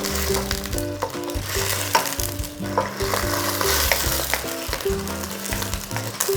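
Thai green curry with zucchini and Thai basil bubbling and sizzling in a pan as it is stirred, a close, continuous frying hiss with scraping stir sounds throughout.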